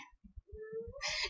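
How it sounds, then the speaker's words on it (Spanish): A cat meows near the microphone in a room, a rising tonal cry ending in a brighter, strained wail, following a few soft low thumps and muffled noises. "¡La gata!"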